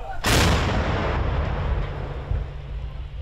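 A single artillery gun fires in a combat setting, one sharp loud blast followed by a long rumbling decay, near and alone.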